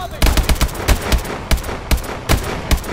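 Rapid automatic gunfire from the futuristic shooter Call of Duty: Advanced Warfare, loud bursts of several shots each, repeating in a fast irregular rhythm with brief gaps between volleys.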